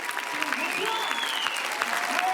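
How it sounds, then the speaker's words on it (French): Audience at a body-positivity event applauding loudly, a dense, sustained patter of clapping with a sliding whistle-like tone and voices mixed in. "On l'applaudit très fort."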